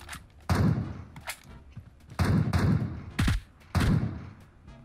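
Gunfire in the battle-royale game PUBG Mobile: several loud, sharp bursts of shots in quick succession, separated by short gaps of quieter in-game ambience.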